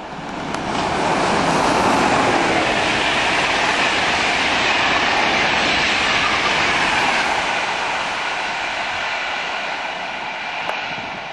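GNER Class 91 electric train at Hadley Wood passing close by with a loud, sustained broadband roar and rush that swells and then slowly fades over about eleven seconds, with no talking.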